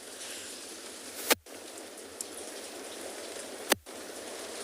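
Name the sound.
rain falling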